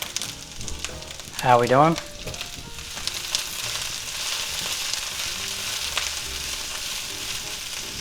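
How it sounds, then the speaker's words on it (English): Mildly hot poblano green peppers sizzle and fry steadily in a pan while being stirred, for a ham and cabbage quesadilla. A person speaks briefly near the start, and the sizzle continues alone after that. "Next we're going to stir in some of our green peppers. These are poblano mildly hot green peppers."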